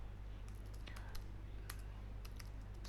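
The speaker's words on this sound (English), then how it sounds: "I will type here" Fingers type on a computer keyboard, producing scattered quiet clicks and small bursts of key presses over a low, steady hum.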